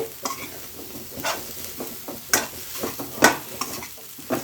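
Grated coconut stirred and roasted in hot ghee over a medium flame for home-style coconut laddu: a steady sizzle under repeated scraping strokes of a spoon against the pan, with a few louder clinks.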